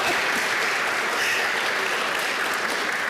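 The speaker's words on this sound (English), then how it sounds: "Clap." Audience clapping at a morning tech policy awards ceremony at American University, a steady, dense wash of applause that stays loud and even throughout.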